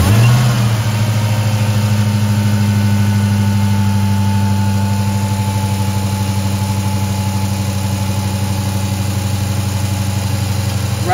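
A Dodge Hellcat's engine sits at a loud, steady idle close by after starting. The deep rumble stays even, with a slight bump at the start, and no one talks.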